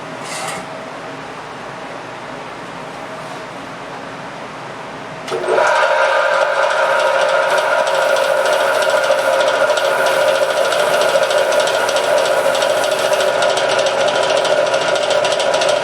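A quiet room, then a bandsaw's electric motor switches on with a thump and keeps running with a loud, steady hum and whine, no voices.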